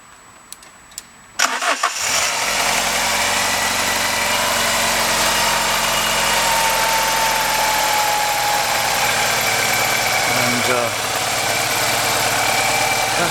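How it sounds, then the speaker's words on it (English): An Alfa Romeo Twin Spark engine in a 916 Spider, just fitted with a repaired timing variator, cranks briefly and catches, then settles into a loud, steady idle that runs on close by with a slight unevenness. "That's running quite sweetly now, a little bit hunting slightly, but the engine's not fully up to temperature."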